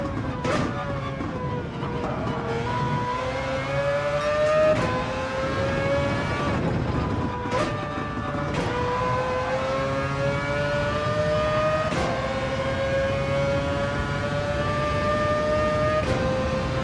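A race car engine in Gran Turismo 7 revs and shifts through gears in repeated rising pulls, loud and continuous throughout with a steady game engine drone.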